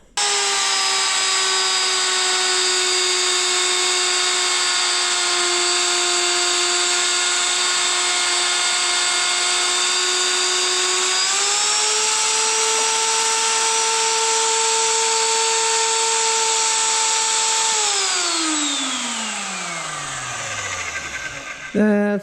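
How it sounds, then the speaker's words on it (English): A magnetic drill boring into metal gives a steady high-pitched motor whine that drills continuously, shifting slightly in pitch midway, then winds down as the motor spins to a stop. "let's drill it."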